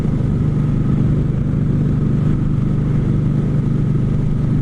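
A motorcycle without a fuel gauge is ridden at a steady pace, its engine a loud constant low hum and drone with road and wind noise, no voices present.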